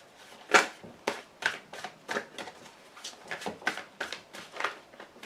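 Playing cards riffled and shuffled for a tarot-style reading, a steady run of crisp papery bursts repeating roughly every half second, close and fairly quiet, with no talking.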